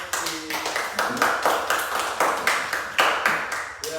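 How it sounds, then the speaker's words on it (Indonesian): A classroom group claps for classmates in a regular, evenly spaced rhythm, each crisp clap close and loud, with no talking. "Tepuk tangan buat kelompok ini."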